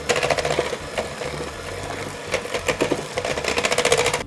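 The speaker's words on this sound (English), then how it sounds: "And then cream this all together until I have a smooth mixture." An electric mixer creaming eggs and vanilla extract into a batter: a close, steady mechanical whir with rapid rhythmic pulsing that runs throughout, alone with no talk.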